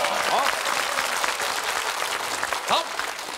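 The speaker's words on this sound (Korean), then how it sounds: "박수 주세요" A studio audience on a KBS family game show applauds steadily through the clip, a dense, moderately loud clatter of clapping, while people talk and exclaim over it.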